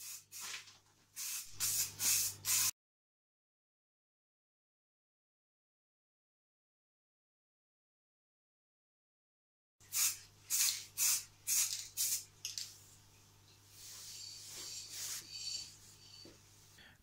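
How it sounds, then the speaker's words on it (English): Short hissing bursts from a spray can of varnish coating a skateboard deck, a long silent pause, then a quick series of close spray blasts followed by a longer steady hiss. "I varnish it with a spray"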